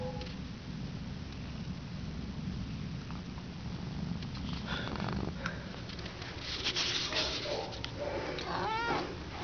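A cat purring softly and steadily up close, a low continuous rumble with a few faint rustles and small sounds near the end.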